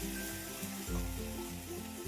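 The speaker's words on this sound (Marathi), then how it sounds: "त्या मिक्सर मधलं पाणी टाकून घ्यायचं आहे 1 ग्लास" Chili water from a mixer jar is poured into a hot pan while cooking village-style pithla, giving a dense, continuous sizzle and bubbling hiss close up for the whole moment.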